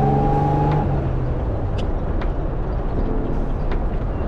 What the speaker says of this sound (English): I love being able to put my foot down on the accelerator.